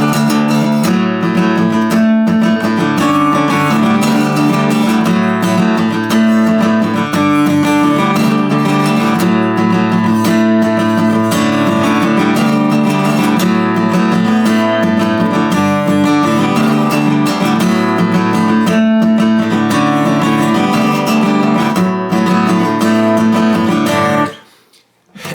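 Acoustic guitar plays the full chord part of a song, a dense, continuous strummed and picked pattern held steady and loud for over twenty seconds before stopping abruptly.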